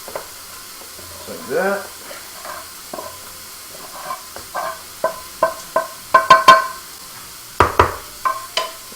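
Food cooking in a pan for a rice bowl, with spatula scrapes and stirring clatters over a soft sizzle, growing busier toward the end, and a brief spoken remark.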